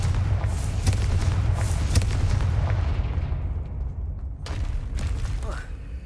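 Confringo spell blasts in Hogwarts Legacy, booming explosive bursts that repeat a few times over a low rumbling game background, with a louder burst near the end.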